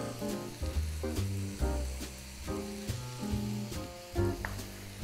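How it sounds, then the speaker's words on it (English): Ground meat browns in a pan with a soft, constant sizzle and crackle, fairly quiet and partly under louder background music. No one speaks. "our ground meat is browning up nicely right now"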